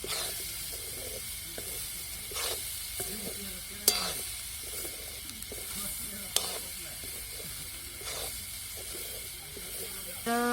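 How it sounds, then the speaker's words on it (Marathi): Soybean chunks being sautéed in oil with masala in a pan, a steady sizzle with repeated stirring scrapes and a few sharp utensil clicks, while people talk over it. "आपल्याला त्यामध्ये तेल मीठ म्हणजे सगळं आपण भरपूर व्यवस्थित प्रमाणात टाकून घेतलं"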